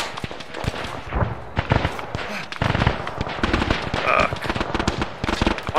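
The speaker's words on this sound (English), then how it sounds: "Where are those shots coming from?" Gunfire in ArmA 3 during a World War II Omaha Beach D-Day battle: dense, continuous volleys of rifle and machine-gun shots crackling near and far, with overlapping bursts throughout and no pause.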